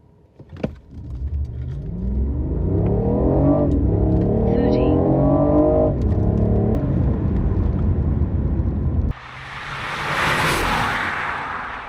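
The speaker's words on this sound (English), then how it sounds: "with me just slamming the accelerator to the floor to see what we get" A BMW i8 hybrid sports car accelerates hard at full throttle from 0 to 60, engine rising in pitch through gear changes with a loud, close cabin roar, then a whooshing settle as it eases off.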